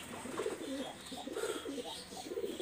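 Pigeon of an original breed cooing in a loft, soft repeated low coos in short phrases across the clip, moderately close, with faint background chatter.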